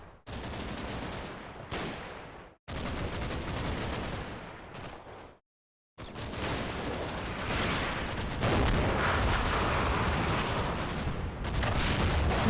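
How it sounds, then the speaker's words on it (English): Battlefield explosions and gunfire in the Normandy wargame Combat Mission, a dense roar of booms and rattling fire broken by two abrupt silences, then a sustained loud barrage. "There's some nice explosions."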